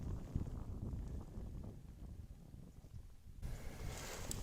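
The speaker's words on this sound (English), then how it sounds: "Get ready for some wind." Cold wind blows steadily across an exposed ridge at a park summit, a continuous rushing roar with buffeting against the microphone that shifts to a brighter gust near the end.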